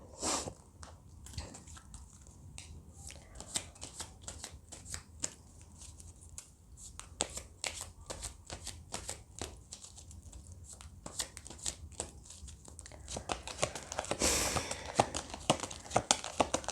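Tarot cards are shuffled close by in a steady stream of quick riffling and flicking that grows denser and louder toward the end.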